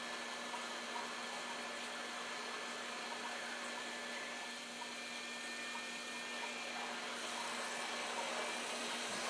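A hot air rework station blows a steady, faint stream of air in a TV repair setting, a continuous hiss with no breaks and no talking.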